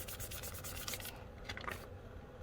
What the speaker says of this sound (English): We're just picking up the excess paint if we can.